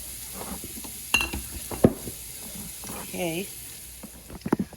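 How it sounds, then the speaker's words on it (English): Food simmers and caramelizes in a pan with a soft, steady sizzle. A utensil scrapes and clinks against the pan a few times, and a voice speaks quietly over it. "Let those simmer a little."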